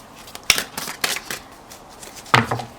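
Tarot cards being shuffled by hand, with several crisp riffling bursts separated by pauses and a final sharper snap, close and fairly loud with no talk.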